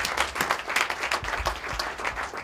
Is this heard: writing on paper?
no